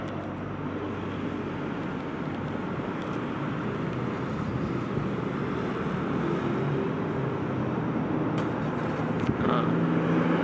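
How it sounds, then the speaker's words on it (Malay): A Proton X50 GDI SUV engine started by remote key, idling as a steady, low, continuous hum heard from a little distance, with no voices. "Enjin dah start."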